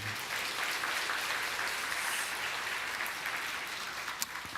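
Applause from a church congregation during a Sunday worship service, a steady, fairly faint wash of many hands clapping that continues evenly from start to finish, with no talking.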